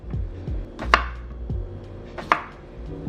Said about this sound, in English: I'm just gonna cut the salad.